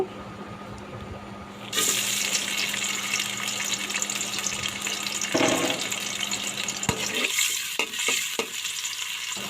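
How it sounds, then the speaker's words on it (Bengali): Chopped onion drops into hot oil for a beef tripe dish, setting off a loud, close, steady sizzle that carries on with brief stirring clatters near the end. "আমার তেলটা গরম হয়ে যাওয়ার পর আমি এখানে হাফ কাপ পেঁয়াজ কুচি দিয়ে দেব"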